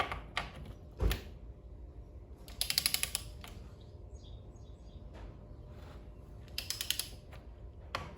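Ratchet tightening crankcase bolts on a small Briggs engine to 25 foot-pounds in a star pattern, quick close clicking bursts with pauses between them and a few knocks in a quiet workshop.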